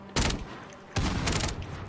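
Sniper rifle fire in a video game: two sharp, loud shots roughly three-quarters of a second apart, each with a brief ringing tail, and no talking.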